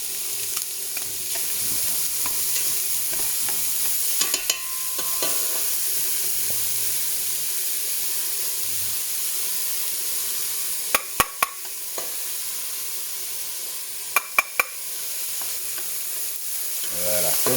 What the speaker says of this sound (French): Je vais rajouter les oignons et l'ail maintenant.